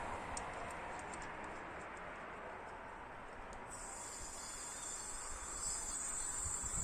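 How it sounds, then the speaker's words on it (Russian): Liquefied gas filling an empty gas cylinder through a hose, a steady faint hiss with fine crackling ticks running throughout, brightening slightly partway through, no voices. "И слышно, как наполняется газ."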